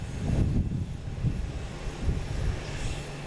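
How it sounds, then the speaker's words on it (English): A JetBlue airliner arriving from Raleigh-Durham produces a low, steady engine rumble with gusty wind noise over it throughout, no voices. "We have a JetBlue from Raleigh-Durham."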